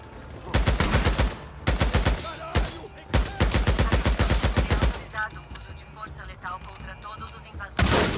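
Gunfire in the video game Days Gone comes in loud, close bursts of rapid automatic fire, separated by short pauses, with a voice briefly heard in a lull before a final burst.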